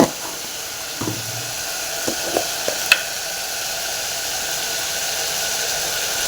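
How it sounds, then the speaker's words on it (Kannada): Ginger garlic paste frying in hot oil gives a steady, even sizzle and hiss that runs the whole time, with a few faint clinks of a spoon stirring the pan. No one speaks. "ಈಗ ಶುಂಠಿ ಬೆಳ್ಳುಳ್ಳಿ ಪೇಸ್ಟನ್ನು ಸೇರಿಸ್ಕೊಂಬಿಡೋಣ"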